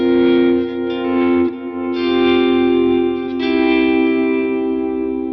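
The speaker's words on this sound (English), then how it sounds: "I have some reverb swells right at the beginning of the song, so I just kind of whack the delay on as well." Electric guitar through a Helix Stadium modeller, with sustained chords swelling in under heavy reverb and delay, blooming and overlapping in two or three long washes that ring on continuously and loudly without any gaps.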